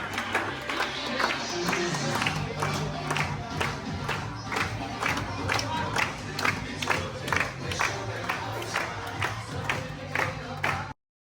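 Restaurant diners at a barbecue buffet clapping rhythmically and cheering together for a cake cutting, a dense continuous crowd roar with steady rapid claps from start to finish.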